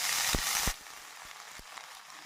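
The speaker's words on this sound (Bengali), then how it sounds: "এবার একটু ভেজে নেবো। এটা সর্ষের তেলে ভাজি।" Washed cabbage hitting hot mustard oil in a pan, a loud bright hiss bursting up for the first moment, then settling into a quieter steady sizzle with a few soft knocks of stirring.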